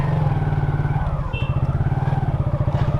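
A motorcycle engine runs close by as the bike is turned around near Singur railway station, putting out a steady low throbbing pulse that briefly dips and then picks back up.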